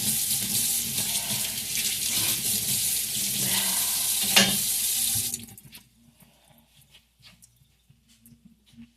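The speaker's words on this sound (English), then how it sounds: "I'm rinsing my knife off." A knife is rinsed under a running kitchen tap, a loud steady gush of water for about five seconds that stops abruptly, leaving quiet clinks and faint background sounds.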